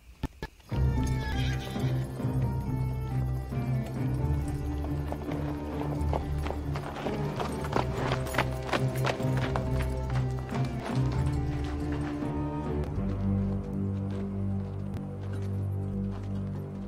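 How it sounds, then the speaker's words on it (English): A horse whinnies and its hooves clip-clop steadily on a hillside path in a comedy horror film scene, loud and close, with a low throbbing hum beneath. "You ever rode a horse before, Lori?"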